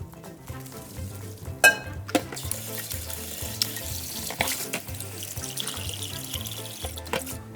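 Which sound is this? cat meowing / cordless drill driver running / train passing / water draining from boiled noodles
water draining from boiled noodles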